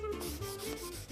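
Steady rough scraping of sandpaper rubbing over wood, continuous and close, with a faint rhythmic back-and-forth pulse.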